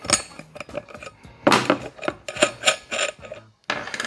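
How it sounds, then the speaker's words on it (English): A 14mm wrench works a nut off the back of a mirror mount, giving a run of close metallic clinks and ratcheting scrapes in uneven bursts, with a short pause near the end. "remove this nut from the back"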